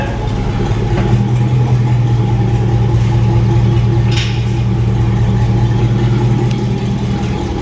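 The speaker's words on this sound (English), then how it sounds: "So, God, this truck sounds good." A 1999 Chevrolet Silverado pickup idles through a new exhaust with a deep, steady rumble, close and loud, with a slight rise in revs partway through.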